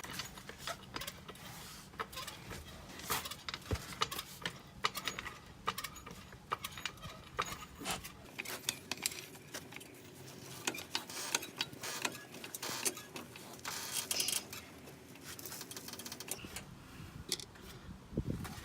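A floor jack with a 2x4 on it is pumped to raise a car, giving a quiet run of repeated clicks, creaks and metallic ratcheting at close range with no talk.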